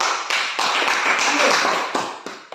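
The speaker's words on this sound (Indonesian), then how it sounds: "Luar biasa, tepuk tangan dulu." A classroom of students applauds a classmate's score, a dense, steady round of clapping that swells, then tapers off unevenly, with a voice faintly underneath.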